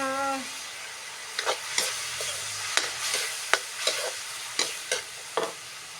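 Pork with spring onions stir-fried in a pan: a steady soft sizzle broken by regular sharp scrapes and clacks of the spatula, close up, with no talking.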